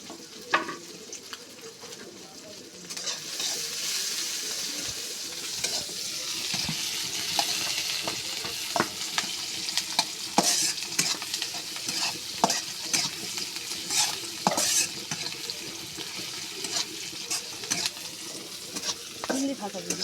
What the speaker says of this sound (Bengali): পেঁয়াজ মরিচটা আমার লাল লাল করে ভাজা হয়ে গেছে